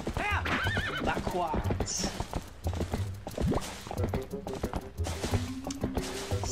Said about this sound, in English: It's a good thing I brought the horse.